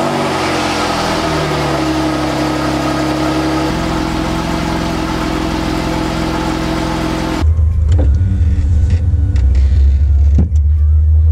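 A Jeep Wrangler JK on a test drive, its engine humming steadily with shifting tones as it changes gear, then a louder, closer low rumble of the running vehicle with a few clicks and knocks.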